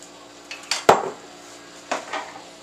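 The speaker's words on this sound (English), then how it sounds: "I like to use a pasta spoon to mix this together" A pasta spoon stirs homemade macaroni and cheese in a pot, making a few scattered clanks and wet scraping knocks close by, with quiet gaps between them.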